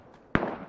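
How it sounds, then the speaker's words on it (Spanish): Two sharp gunshot cracks ring out in the video game Ring of Elysium, a short gap apart, after a quiet lead-in. "Tiros adelante."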